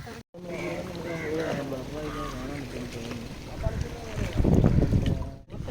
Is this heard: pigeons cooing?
no